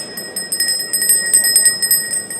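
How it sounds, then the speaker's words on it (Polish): A small hand bell on the speaker's chair of the Polish Sejm is shaken rapidly, ringing in a quick, insistent series of bright metallic strikes over a murmuring parliamentary chamber. "Ten dzwonek chyba trzeba będzie większy."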